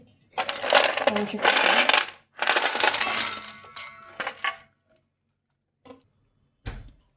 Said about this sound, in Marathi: त्यामध्ये थोडे आईस सोडायचे